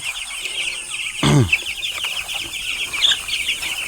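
Broiler chickens in a coop cluck in a soft, steady chorus, with one louder squawk and a brief rustle partway through.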